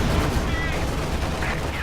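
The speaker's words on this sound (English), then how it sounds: "Stuka strafing run coming down." A Stuka dive-bomber strafing run in the WWII strategy game Company of Heroes 2, heard as a dense, continuous roar of rapid gunfire and explosions that stays loud and unbroken throughout.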